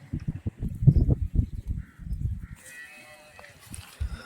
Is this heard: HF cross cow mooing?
yes